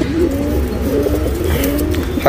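Pigeons coo in soft, repeated low rolling calls, close by and steady throughout the short stretch, with no voices.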